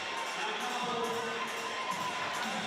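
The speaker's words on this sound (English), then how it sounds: "We're going to hear a cheer if she gets down there first." A crowd at the finish of an elite triathlon race in the Down Under Championship cheers a local athlete, a steady wash of cheering and shouts heard from a distance.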